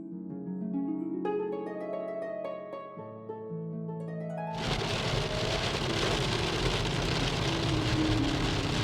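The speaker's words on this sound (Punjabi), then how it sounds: "ਲਓ ਵੀ ਲਦਾਖ ਦਾ ਮੀਂਹ ਵੀ ਵੇਖ ਲਓ" Steady, dense rain hissing loudly in Ladakh after a few seconds of tonal music, continuing to the end.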